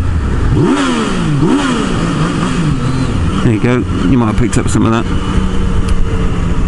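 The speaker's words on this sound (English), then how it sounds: "if you think I'm going to do a rev bomb, you'd be right" A Yamaha MT-09 motorcycle engine revs up sharply in a few loud bursts and settles back, close by, with someone talking over it.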